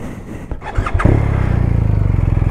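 A BMW R 1250 RT motorcycle (2023, Triple Black) cranks briefly, then its engine catches and settles into a steady, close idle with a regular pulsing beat.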